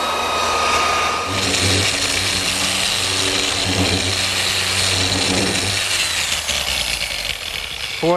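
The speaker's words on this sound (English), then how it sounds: "They've had sanders like this in the auto body business for years, run by Air, random orbit sanders" An air-powered random orbit sander works on a wooden table top, giving off a loud, steady whirring drone with a hissing air rush. Its tone shifts slightly as it moves across the wood, and it sputters at the very end.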